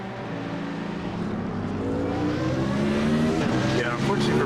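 Race cars lapping Spa in the iRacing sim during an SCCA season finale, a steady dense engine roar with layered exhaust tones and brief tire squeal under braking, continuous and fairly loud, with commentary voices talking over it.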